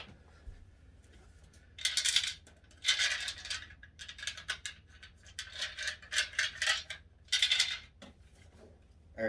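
Dice rattled and rolled on a table, several bursts of bright clattering and tumbling with short quiet gaps between them, close and fairly loud.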